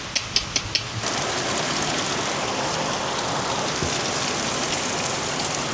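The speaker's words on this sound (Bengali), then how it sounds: "একবারে সুন্দর একটা বৃষ্টি হচ্ছে" Steady rain pours down, a dense, even hiss of drops on surfaces after a few sharp ticks at the very start, continuing loud and unbroken to the end.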